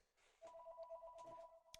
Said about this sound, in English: Sorry, that phone's ringing.